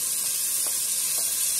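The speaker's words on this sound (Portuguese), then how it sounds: "Deixa eu dar só uma refogadinha aqui." Tomato and zucchini sautéing in a hot pan for fish-head pirão, a steady broadband sizzle with a few soft stirring scrapes, close and continuous with no talk.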